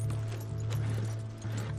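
Horse hooves clip-clopping in Red Dead Redemption 2 roleplay, a steady loud rhythm of hoofbeats over a dense, constant rumble of game ambience, with no talk.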